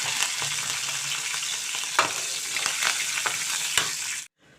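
Close, steady sizzling of curry leaves frying in hot oil, with occasional sharp pops and crackles, stopping suddenly near the end.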